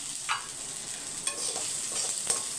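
Fifteen small onions sauté in a pan, making a soft, continuous sizzle with a few light stirring clicks, quiet and close, with no voices.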